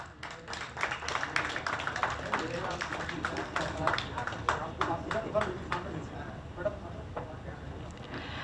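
An audience at a stage play claps in a scattered, irregular patter. A voice speaks over the clapping throughout.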